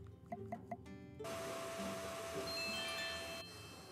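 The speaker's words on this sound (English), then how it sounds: "I love the vacuum so much." A handheld vacuum tool in the video game My Time At Sandrock switches on with a steady, loud whirring drone that holds for about two seconds and then cuts off, following a few short clicks.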